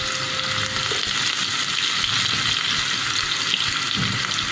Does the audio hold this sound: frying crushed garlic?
yes